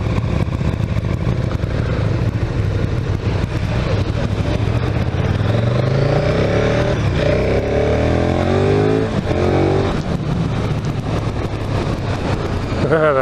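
A KTM Super Duke GT motorcycle accelerates hard, its engine note rising in repeated sweeps through the gears, loud and close, with someone speaking over the engine.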